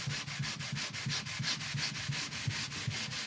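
Steady back-and-forth sanding of a guitar neck, a regular rhythmic scrubbing of abrasive on a surface at about three strokes per second, close and continuous.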